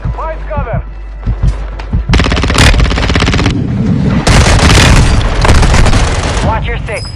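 Dense gunfire and booming mortar strike explosions in an online shooter video game build into loud sustained barrages, with a voice speaking at the start and near the end.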